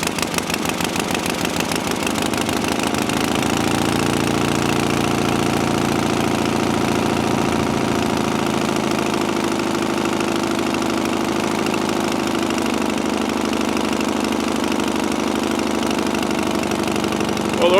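Small engine idling steadily through newly installed mufflers that replaced a burned-out one, a continuous low rumble with slight knocking pulses, close and moderately loud, with no talk.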